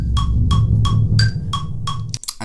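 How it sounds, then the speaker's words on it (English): A kick drum reversed, slowed down and drenched in reverb swells into a deep rumble, with a series of rising, evenly spaced swooshes before a sharp cut near the end. "It used to be like a kick, which I then reversed, slowed down, added some reverb, and then we get this."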